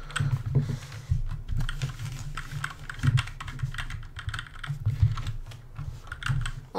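Someone types steadily on an HK GK61 60% mechanical keyboard, producing close, crisp, clicky keystrokes in quick uneven bursts over several seconds, with no talking.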